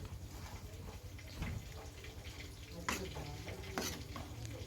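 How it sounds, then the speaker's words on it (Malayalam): Fish frying in a pan on a stove: a continuous low sizzle and bubbling, with a few louder crackles and stirring clatters, heard close up without speech. "ഒരു സ്റ്റൗവിൽ ഞാൻ മീൻ വറുക്കാൻ വെച്ചു കേട്ടോ."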